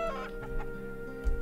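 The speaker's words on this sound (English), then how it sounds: "I'll just skip to the last chicken." Chicken clucking in a point-and-click adventure game: a few short clucks over a steady tonal music drone, with a soft thump near the end.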